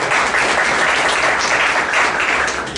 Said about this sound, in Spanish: el ingeniero José Edgar Peña Guevara, también un fuerte aplauso para él.